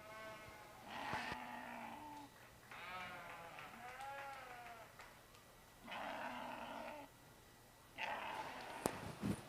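Lambs bleat repeatedly in a livestock show ring, several distinct wavering calls at moderate distance spaced by brief pauses, over a quiet arena murmur with a sharp knock near the end.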